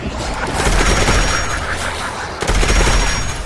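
Rapid automatic gunfire from a weapon in the video game Fallout 76, dense bursts of shots that run nearly unbroken for the whole stretch, loud and close, with a short pause before a second burst.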